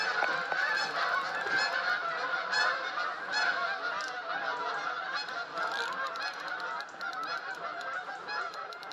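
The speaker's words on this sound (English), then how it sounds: "Army of geese coming overhead." A large flock of geese honking overhead beside the River Severn in autumn, a dense, continuous chorus of overlapping nasal honks, loud and close at first, then thinning slightly as the birds pass.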